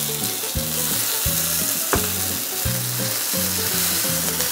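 Steady loud sizzle of garlic, onion and tomato sautéing in a pan for crispy pork binagoongan, with rhythmic stirring scrapes cutting through the frying hiss.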